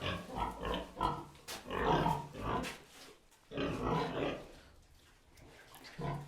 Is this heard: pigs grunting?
yes